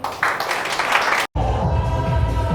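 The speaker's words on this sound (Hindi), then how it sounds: "कंपनी बहुत तरक्की पर है, एक बार ताली बजाएंगे।" An audience at a direct selling marketing meeting claps together in a dense burst. After a sudden cut comes a lower, rumbling stretch of crowd noise.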